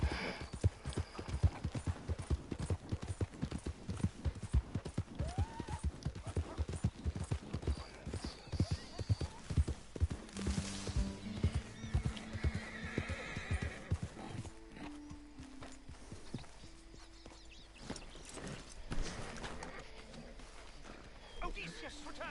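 A horse in the video game Red Dead Redemption 2 gallops with rapid, steady hoof clip-clops that later slow, with whinnies mixed in and game voices talking over it.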